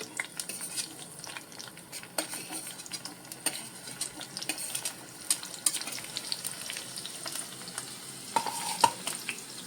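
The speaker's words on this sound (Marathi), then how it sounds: "आता या मिरच्या व्यवस्थित फ्राय होऊन द्यायच्या आहेत" Green chillies fry in ghee for a tempering, making a continuous gentle sizzle with light crackles and occasional utensil clicks, close and steady with no talk.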